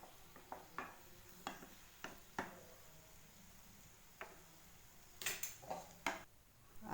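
Fish curry being stirred in a pan on the stove: a string of sharp scraping and tapping strokes, irregular and fairly close, over a soft steady sizzle, with a denser cluster of clinks toward the end.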